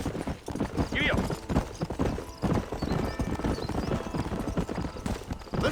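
Horse hooves galloping in the Western video game Red Dead Redemption, a steady rapid clip-clop close up throughout, with a brief whinny and a voice speaking over the hoofbeats.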